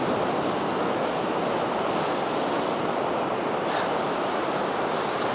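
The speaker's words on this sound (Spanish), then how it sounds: "Ya tenemos las olas" Ocean surf breaks and washes continuously in a steady, full roar, close and loud, with wind buffeting the microphone and no voices.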